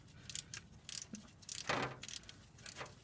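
A ratchet working on the transmission pan bolts of a GM 4T40E/4T45E automatic, a few short bursts of clicking with metallic clinks and pauses, close and fairly quiet.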